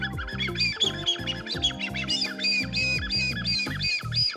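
A dogwood bird call made to imitate a blackbird's song gives repeated bright, warbling whistled phrases in a steady, lively rhythm, close and loud with no talking.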